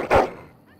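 A single sharp bark from a hound in the video game Dragon Age, close and loud, fading quickly into quiet.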